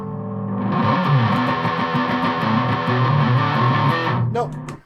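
Thick, buzzing fuzz-distorted electric guitar through a Yamaha Magicstomp effects unit playing a short riff for several seconds, then cutting off abruptly.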